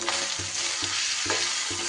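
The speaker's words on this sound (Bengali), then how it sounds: "সব মশলা এবার একটু তেলের ওপর নাড়াচাড়া করে নেব" Ground cumin, coriander and turmeric being stirred in hot oil, a continuous sizzle broken by rhythmic scraping strokes of the spoon about every half second, close up.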